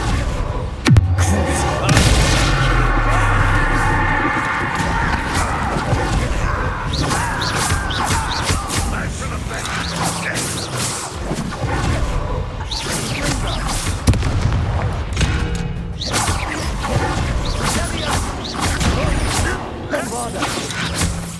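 Bombarda exploding spell blasts in Hogwarts Legacy, a series of heavy booming thuds and crashes within dense battle noise, with a voice speaking over the chaos.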